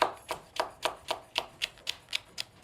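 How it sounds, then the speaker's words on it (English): A knife chops a vegetable on a cutting board in a steady rhythm of about ten crisp, evenly spaced taps, faint and close with no talking. "That's it for the chopping."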